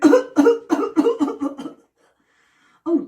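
A run of about six harsh, throaty coughs in quick succession, close and loud, then a pause and the start of another.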